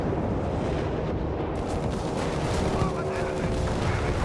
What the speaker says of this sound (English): Chaffee's rifling there, getting blasted by the two Panther 3s